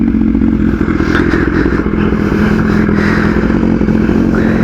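A BMW S1000RR motorcycle fitted with an Austin Racing titanium decat exhaust runs loud and close, a steady rough engine drone with clattery, crackling texture and no pauses.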